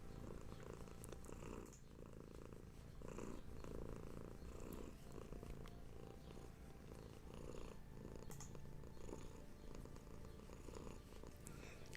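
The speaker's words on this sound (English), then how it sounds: "the kitten is purring. I'm sure you can hear it." A kitten purrs close by in a soft, continuous rumble that keeps an even rhythm throughout, with no other sounds over it.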